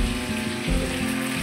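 Ground turmeric, coriander, cumin, chili, garam masala and Kashmiri chili powders frying in a pan for buffalo meat bhuna, giving a steady close sizzle with a soft watery hiss throughout.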